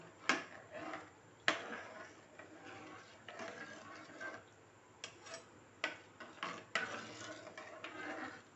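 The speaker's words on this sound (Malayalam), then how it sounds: "നന്നായിട്ട് ഇളക്കി കൊടുക്കുക" Salted broken-rice upma stirred in a pot: light, irregular scraping and clinking of a spoon against the metal, faint and close, with occasional sharper taps.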